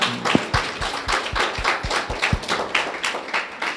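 An audience claps at a church sermon, a loud, dense burst of applause that rings out close and steady for several seconds with no speech over it.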